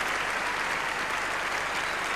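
Audience at the 1993 Eurovision Song Contest applauding, a dense, steady wash of many hands clapping that holds at a constant loud level throughout.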